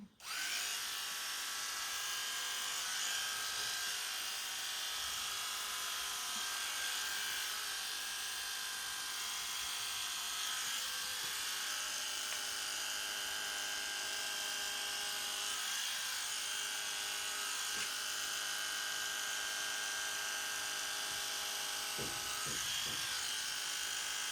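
Steady high-pitched buzzing of electric clippers shaving a dog, running continuously throughout, moderately faint and close, with no talking.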